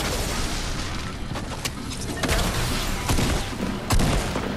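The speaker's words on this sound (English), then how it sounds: "I was getting shot from every which way." Rapid, dense gunfire and booming explosions in the Fortnite video game, sharp cracks overlapping continuously for several seconds with heavier blasts near the end, loud and close with no talking.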